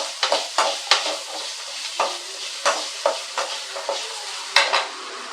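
Peeled garlic sautés with softened onions in a pan for a village-style fish curry. A spoon stirs in a steady rhythm of scraping strokes over a soft, continuous sizzle, with no talking.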